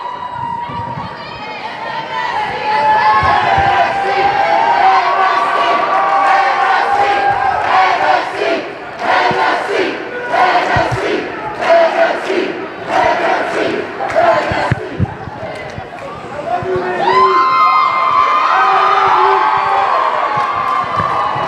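Crowd at a high school hockey game in an ice rink, Westfield versus Broad Run, roaring and shouting loudly with rhythmic chanting bursts, and an announcer talking over the noise.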